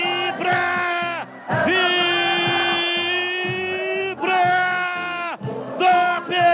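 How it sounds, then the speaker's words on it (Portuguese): Football supporters at the Ponte Preta vs Guarani derby roar and chant loudly after a goal, a dense sustained wall of voices with a few short pauses, close and overpowering. "A torcida vibra"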